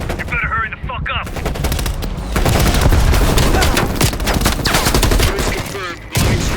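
Heavy machine gun fire in the Call of Duty Black Ops Cold War shooter, loud continuous rapid bursts of automatic gunfire near the listener, with brief gaps and a voice faintly mixed in.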